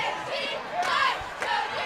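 A roaring crowd at a high school football game between the Girard Trojans and Colgan Panthers, with loud sustained cheering and shouts swelling in waves from the stands.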